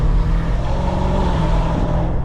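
A BMW F90 M5 Competition revs hard under throttle in manual mode, a loud, steady low engine drone with a deep rumble heard from inside the cabin, holding strong for a couple of seconds.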